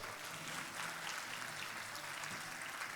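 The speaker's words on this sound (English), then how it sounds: "Round of applause for our mayor," Steady round of applause from a luncheon audience greeting the city mayor, broad and continuous clapping filling the room at even strength with no voices over it.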